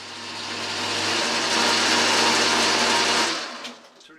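A metal lathe runs with its traverse engaged, a steady broadband motor and gear whir that holds level for several seconds, then cuts off and winds down into quiet clicks, close and loud, without speech.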